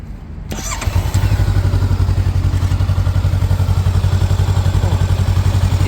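A 2020 Honda CB400X ABS touring enduro motorcycle is started: a brief mechanical clatter, then the engine catches and settles into a loud, steady, close-up idle with an even pulsing throb.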